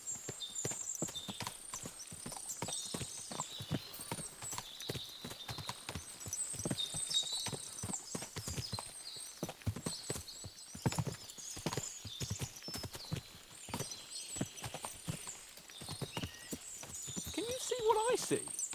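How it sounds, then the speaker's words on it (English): Many horses clip-clop in the medieval video game Kingdom Come: Deliverance II, with busy overlapping hoofbeats and occasional whinnies, sometimes close and sometimes farther off, mixed with ambient game sounds. "What a lot of horses!"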